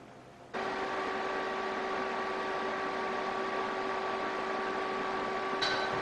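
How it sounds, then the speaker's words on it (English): Welding a steel strap onto a landing gear tube for an experimental Bearhawk airplane: a steady electric hum and buzzing hiss starts abruptly and holds evenly for several seconds, close and moderately loud. "So the end here is conforming the strap to the tube pretty nicely now, so I am going to weld it."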